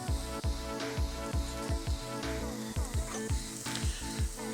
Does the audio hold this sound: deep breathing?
no